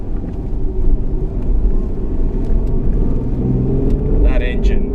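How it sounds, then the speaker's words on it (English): A 1994 Saab 900 V6 manual car engine hums steadily and pulls under load, a low continuous drone with road and wind noise, with a voice heard briefly near the end. "That engine just pulls like a train."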